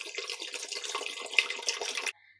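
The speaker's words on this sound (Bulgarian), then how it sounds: "добавяме около 2 литра вода" About 2 litres of cold water poured into a soup pot over sautéed vegetables, a steady close splashing stream lasting about two seconds before stopping abruptly.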